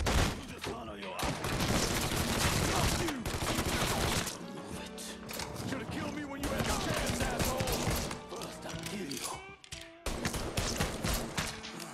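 Rapid gunfire from the Mafia 3 video game crackles in dense, loud volleys almost continuously, with one brief lull near the middle and the shots stacking into sustained bursts.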